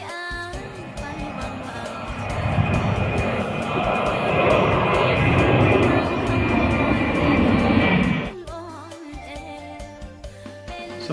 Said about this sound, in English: I boarded the plane and then flew out on a 9-hour flight direct to